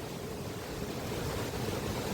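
Steady broadband wind roar buffeting the microphone outdoors at a beehive apiary, continuous and fairly loud with no voices.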